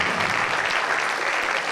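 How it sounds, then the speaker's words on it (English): An audience at a high school hypnosis show claps in a brief, dense, even burst of applause that fills the room. "Give him a big round of applause."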